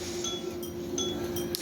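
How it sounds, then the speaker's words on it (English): Little pull strings on a fan clink lightly against window glass in a few scattered, faint ticks over a steady hum, with no talking. "If you hear like a little clinking thing, it's my fan, like the little pull strings."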